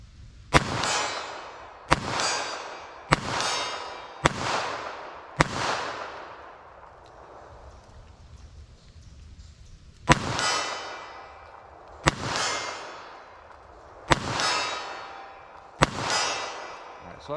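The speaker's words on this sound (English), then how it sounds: "So I was shooting a little bit too fast there, kind of got away from me." A .380 ACP pistol fired at a target on a shooting range: nine loud, sharp, ringing shots, five in quick succession, then a pause, then four more spaced a second or two apart.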